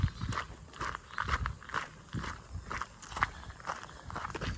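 A horse walks along the Virginia Creeper Trail near an old depot, hooves clip-clopping in a steady, soft rhythm at a moderate distance, faint and without talk.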